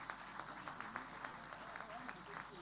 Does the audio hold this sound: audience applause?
yes